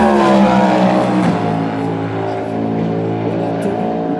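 The number 5 Porsche race car rolls slowly during Hyperpole qualifying at the 2025 Le Mans 24 Hours, its engine giving a loud, steady, close drone whose pitch dips slightly after a second, then holds.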